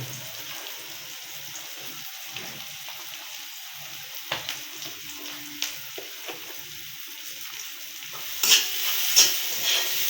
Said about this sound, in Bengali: একটু মেরে ফেরে ভালোভাবে লবণটা তেলের উপরে ভেজে মিশিয়ে নেব